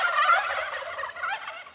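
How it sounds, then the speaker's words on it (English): Turkeys gobble loudly in a vegetable garden, a dense continuous chorus of rattling calls from several birds close by, with no talk. "my turkeys are loud today."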